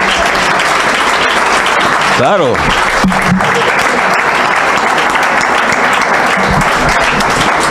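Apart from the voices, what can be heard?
audience applause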